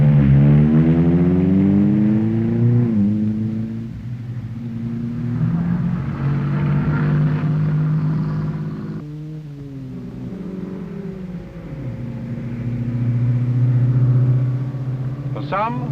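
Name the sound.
Rootes Group Rapier rally car driving mountain pass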